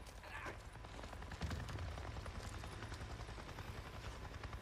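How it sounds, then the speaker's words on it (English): A helicopter in the game Days Gone gives off a faint, low, rhythmic rotor thrum that stays steady and distant for the whole stretch, with no talking. "I just saw a goddamn chopper!"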